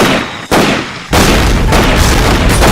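A frag grenade blast in Medal of Honor Pacific Assault gives a loud, close boom and a dense roaring burst. The sound cuts off briefly, then rumbles on heavily.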